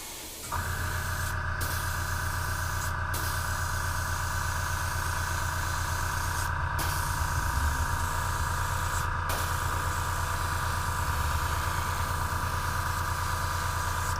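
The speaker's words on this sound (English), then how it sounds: "I am spraying the entire body with green gold" An airbrush sprays green-gold paint with a steady hissing spray running continuously, a droning compressor hum underneath, interrupted briefly a few times.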